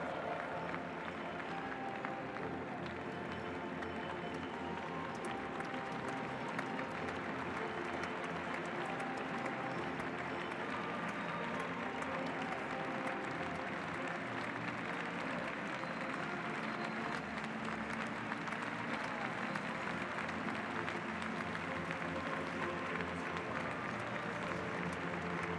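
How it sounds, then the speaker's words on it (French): A large crowd at a show-jumping competition applauds continuously during a lap of honour, a dense, steady roar of clapping that sounds distant and fills the whole stretch without letup. "puisque vous êtes en train de les applaudir, vous allez le faire maintenant en cadence à l'occasion du tour d'honneur"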